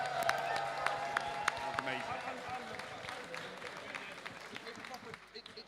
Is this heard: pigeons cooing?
no